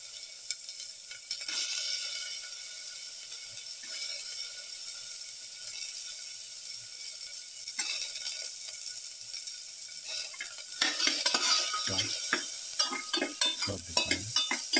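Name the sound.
garlic frying and being stirred in a pan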